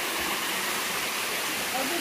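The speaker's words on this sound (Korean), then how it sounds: "장마가 져서 여름 장마가 져서 계곡물이 부쩍 불어나서 한쪽에 물소리를 들으면서" A mountain stream on Bukhansan, swollen by summer monsoon rains, rushes with a steady, loud, broadband roar of fast-flowing water that runs unbroken throughout.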